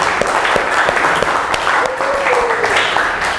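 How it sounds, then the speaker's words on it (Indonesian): A class of students at an Islamic tahfidz junior high school applauds together: loud, dense clapping with sharp individual claps poking through, faint voices mixed in, and a brief whistle-like tone partway through. "tepuk tangan dulu kita semua"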